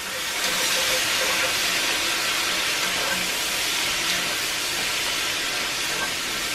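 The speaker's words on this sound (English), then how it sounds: "Add a little bit of steak broth." Steak broth poured into a hot cast iron pan hisses and steams loudly, a dense continuous sizzle holding steady for several seconds with no talking.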